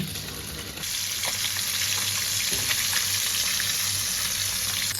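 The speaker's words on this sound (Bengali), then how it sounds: "বেগুনটা একটু ভেজে নিচ্ছি, আর এটা হচ্ছে সাদা বেগুন" Homegrown white eggplant fries in a pan with a loud, continuous close-up sizzle that thickens after the first second, with no talking over it.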